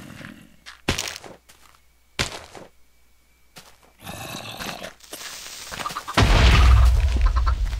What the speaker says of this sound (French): Il a explosé, mais il n'a pas brisé la clôture.